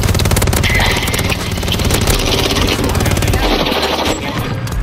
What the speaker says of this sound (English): Getting shot at again.